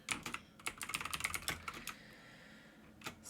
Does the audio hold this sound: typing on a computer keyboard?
yes